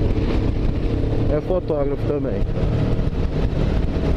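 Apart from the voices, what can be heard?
strong wind blowing on microphone outdoors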